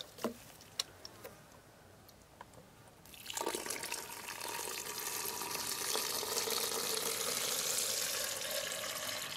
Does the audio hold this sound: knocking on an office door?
no